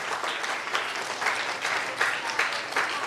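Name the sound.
children applauding their teachers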